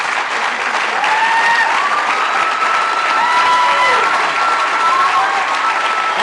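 A crowd at a 2010 high school graduation ceremony applauds the graduating class with loud, dense, sustained clapping, whoops and cheers rising through it from start to finish.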